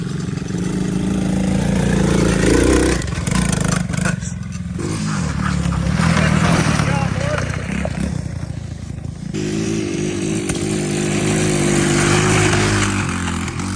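125cc Tao Tao engine revving hard, a loud buzzing whine that rises and falls in several long surges, with scraping and clattering mixed in and no talk.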